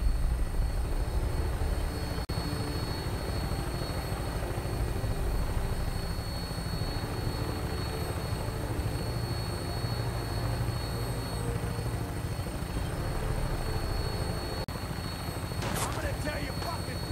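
Aircraft in the video game Fallout 4 powers up for takeoff, a steady droning engine and rotor hum running throughout at moderate level, with a brief sharp burst near the end.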